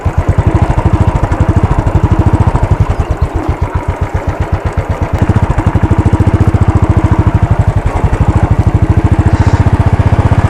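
A 2016 Royal Enfield Classic 500 Desert Storm motorcycle running as it is turned around: a loud, close, steady thumping engine beat whose pace shifts slightly throughout.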